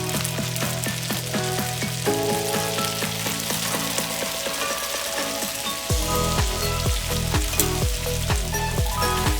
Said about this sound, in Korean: 면에 기름 코팅이 될 정도만 재빨리 볶아줍니다.